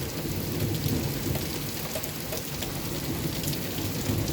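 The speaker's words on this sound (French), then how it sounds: "Ah, là c'est de la pluie, là je suis d'accord." Heavy rain with hail pours down in a dense, steady roar, drops pattering on surfaces and bouncing on a lawn, loud and continuous throughout.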